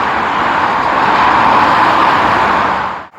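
Steady, loud roar of motorway traffic from cars and trucks passing close by, a continuous broadband wash of tyre and engine noise that briefly dips near the end.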